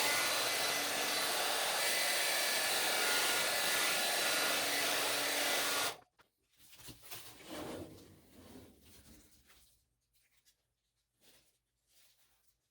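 A heat gun blows a loud, steady whooshing roar for about six seconds while it smooths wrinkled material for a storm window, then cuts off into soft rustling and crinkling handling noises.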